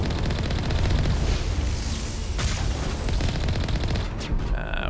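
Heavy cannon and weapon fire in the video game Mass Effect form a dense, loud, continuous barrage of booming shots and rumble, with a few sharper cracks near the end.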